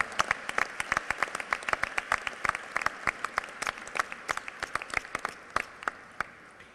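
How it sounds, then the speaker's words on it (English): Banquet audience at a NAACP Freedom Fund dinner gives elected local officials a sustained round of applause, a dense steady patter of many hands clapping close by with distinct sharp claps standing out throughout. "we want to give you a real round of applause"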